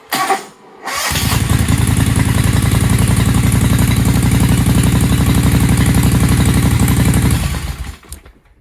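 A John Deere X495 lawn tractor engine, under restoration and repower, cranks after a click and catches at once, then runs loud and close with a fast, steady chugging idle for several seconds before shutting off.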